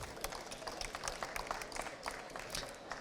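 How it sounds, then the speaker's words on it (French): An audience at a school energy-saving awards ceremony applauds a school team: a modest, fairly soft patter of many separate hand claps, steady throughout. "Je pense qu'on peut les applaudir."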